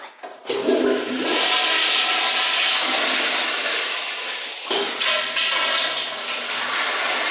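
A 2000s American Standard Afwall wall-mounted toilet flushes in a department store restroom, a loud sustained rush of water and hiss that starts abruptly and holds steady, with a brief dip partway through.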